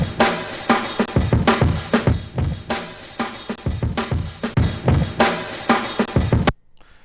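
A drum loop or break run through tape saturation, with a dense, slightly clipped character: punchy kicks and snares hit in a steady groove for several seconds, loud and upfront, then cut off abruptly near the end.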